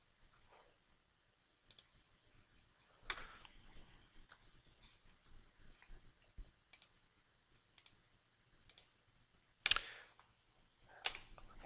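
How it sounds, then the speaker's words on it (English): A computer mouse clicks faintly at an uneven pace while CAD software is in use, with crisp isolated taps and occasional quick pairs against a very quiet background. "Clicking on Return in the ribbon"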